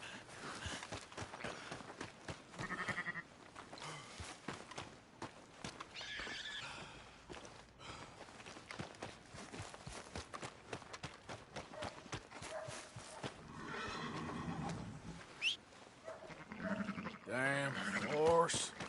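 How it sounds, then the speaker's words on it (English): Horse neighs and hoof clip-clops from a Red Dead-style open-world video game on PS4, mixed with a voice and game music, the whinny rising near the end. "Damn horse."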